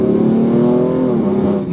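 A 700 hp BMW M4 tuned by Infinitas and RB Engineering under hard acceleration holds a loud, close, droning engine note that stays fairly level for almost two seconds.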